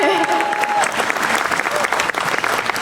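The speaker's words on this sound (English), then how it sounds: "Yeah, clap." Audience clapping at a 2023 university commencement for the graduating class, a dense, steady wash of many hands filling the whole stretch with a faint voice briefly audible beneath.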